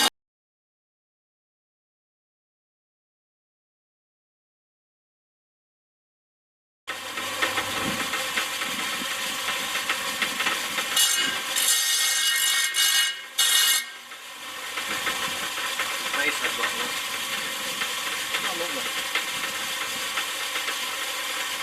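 A Norton Flexvolt Clipper TT200 saw slices through a piece of blue lace agate, its steady, loud grinding whine starting abruptly after several seconds of silence and running on unbroken to the end.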